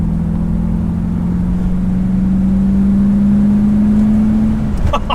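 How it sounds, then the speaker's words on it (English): A 1977 Corvette C3's V8 engine accelerates in a close, loud, steady rumbling drone whose pitch climbs slowly, heard from inside the car, then fades out with a few clicks at the end. "Oh, the V8."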